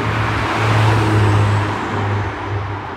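A BMW M2 drives past nearby, its engine hum and tyre roar rising and fading steadily over a few seconds.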